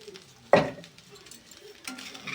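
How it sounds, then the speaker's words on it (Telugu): Half a kilo of sugar pours into a pan of dry-roasted peanuts, landing as one sharp rushing burst, followed by faint scraping and sizzling, with a second softer scrape near the end. "ఇప్పుడు ఇందులో మనం చేయవలసిన రెండు పనులు చేయాలి ఇంకా అది ఏంటంటే ఫస్ట్ అయితే ఇందులో హాఫ్ కిలో షుగర్ అయితే వేసేద్దాం ఇప్పుడే"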